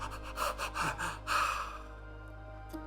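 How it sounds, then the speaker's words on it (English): A person yawns while breathing in and out through the yawn, giving a series of close, airy gasping inhales and exhales that end in a long breathy release. "you can actually breathe through the yawn"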